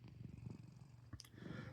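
A sleeping cat purrs softly up close, a low rhythmic rumble pulsing several times a second, faint and steady with a brief small rustle near the end.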